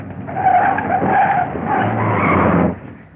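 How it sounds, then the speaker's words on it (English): A car skids to a sudden stop, its tires squealing loudly and close for about two and a half seconds before the sound fades out. "Stop the car, quick!"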